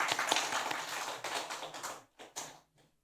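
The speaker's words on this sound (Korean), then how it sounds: "인사 한번 박수 한번 쳐주세요" Applause from a church congregation greeting a guest, a local sign maker, during a Sunday service; a scattered burst of clapping that thins out after about two seconds into a few last claps, then quiet.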